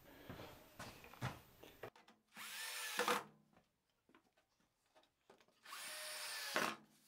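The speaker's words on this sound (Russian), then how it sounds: "крепим заготовку вот так вот саморезами," Power drill driving self-tapping screws into a wooden workpiece for a corner shelf: two loud, sustained whirring bursts, close by, separated by quieter handling knocks and clatter.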